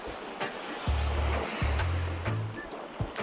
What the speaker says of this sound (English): It is absolutely a gorgeous beach here. You can see the water is really clear.